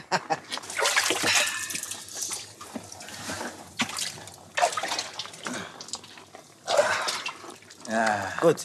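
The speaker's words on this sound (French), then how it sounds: "Où est-ce qu'il y a de l'eau? Pour mes mains." Splashing water and drips as someone rinses their hands from a slightly sulfurous water source at a volcano, with voices talking over the intermittent splashes.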